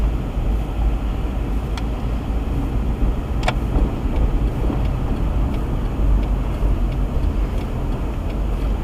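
Car driving on a roadway, a steady close rumble of engine and tyre noise throughout with a couple of faint clicks, no talking.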